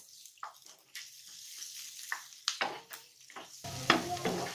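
Chopped onion, garlic and green chili frying in a pan, with bursts of sizzling and spatula scrapes that grow louder and denser toward the end, close and without talk.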